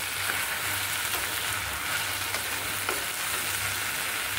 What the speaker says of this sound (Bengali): একটু ভাজিটা নাড়াচাড়া করে দিই।